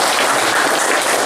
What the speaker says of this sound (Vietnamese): cho ban hội chẩn một tràng pháo tay